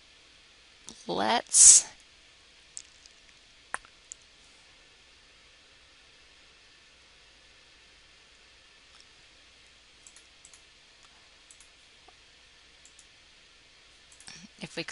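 Sharp computer mouse clicks during a word-processing tutorial: a loud cluster near the start, then scattered light ticks, with a voice briefly speaking.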